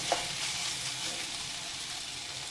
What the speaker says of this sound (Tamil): இப்போ தக்காளி நல்லா வதங்கிருச்சு. இப்போ குடமிளகாய் சேர்த்துரும்.